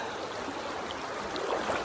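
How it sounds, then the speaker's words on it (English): A creek in the Eastern Sierra flowing steadily nearby, a continuous close rush and trickle of water with no voices. "And now I'm in the creek."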